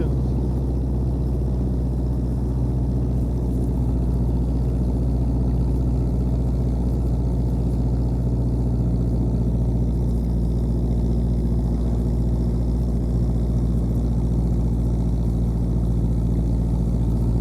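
An old Ford Model T engine idles steadily with a low, even mechanical rumble that holds constant throughout.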